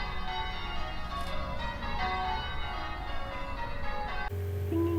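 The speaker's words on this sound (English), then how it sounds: "here's the spoiler bell again" A spoiler bell rings as a sustained, bright metallic tone with long ringing overtones, loud and steady, then changes to a different lower tone in the final second.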